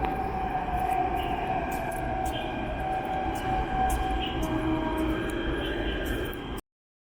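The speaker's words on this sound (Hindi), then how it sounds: "मैं बात करते करते पहुंच भी गया supreme court metro station, blue line वाला।" A Delhi Metro Blue Line train at Supreme Court station, with a steady loud rumble and high whine running continuously before cutting off abruptly, voices murmuring underneath.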